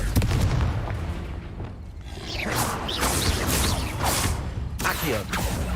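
Confringo fire blast spells explode in the Hogwarts Legacy video game. Several heavy booms and whooshing bursts follow one another in quick succession over a rumbling background.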